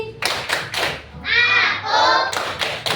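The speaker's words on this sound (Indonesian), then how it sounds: "Tepuk konsentrasi." Children in a classroom perform a patterned concentration clap, a few separated sharp claps in rhythm broken by a stretch of chanted voices before the clapping resumes.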